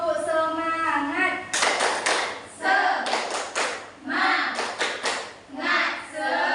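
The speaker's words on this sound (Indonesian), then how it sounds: "1, 2, 3, tepuk semangat." Schoolchildren in a primary classroom doing a rhythmic spirit clap, bursts of group clapping in patterned beats alternating with chanted voices.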